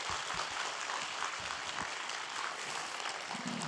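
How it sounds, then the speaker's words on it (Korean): Audience applause in a church hall welcoming a missionary speaker to a creation science seminar, a dense steady wash of clapping from many hands throughout. "뜨거운 박수로 함께 환영해 주시기 바랍니다"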